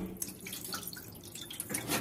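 Tap water runs and drips softly while rice is being washed in a home kitchen, a faint, uneven trickle with small splashes, quiet and without talking.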